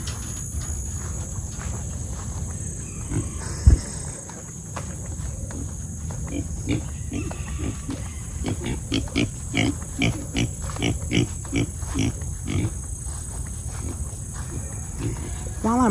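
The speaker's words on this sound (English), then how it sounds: "Y'all are the sweetest pigs ever." Pigs named Pickles and Mr. Pig grunt in short repeated bursts at close range, with steady background noise and a sharp knock partway through; someone talks over them.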